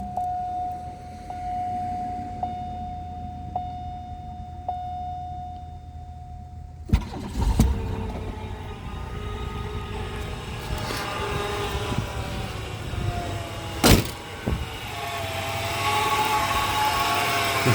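A 1994 Buick Century engine cranks and catches after a quiet stretch with a steady tone, then settles into a continuous close idle with a brief surge partway through.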